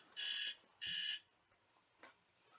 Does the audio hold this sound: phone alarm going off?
yes